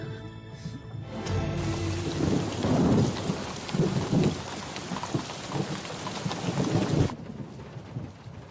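Heavy rain pouring down with rumbling thunder, a loud dense downpour with low rolling booms that starts after a brief musical opening and cuts off abruptly near the end.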